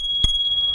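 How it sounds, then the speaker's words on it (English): A single bright ding from the bicycle bell on a Gazelle Medeo T9 eBike, heard close up over a steady high ringing tone and light background noise. "nice loud bell."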